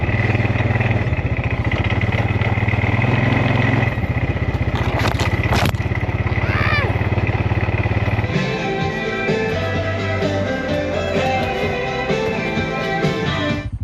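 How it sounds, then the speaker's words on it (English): A 4x4 ATV engine runs loud and steady at a motor campground, a dense continuous drone that shifts to a rougher, lower chugging partway through as the machine changes pace. "Guess I'm going to ride an ATV."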